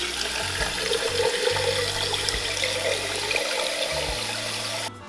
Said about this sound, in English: we're gonna come over to a sink and we're gonna fill it up with some cold water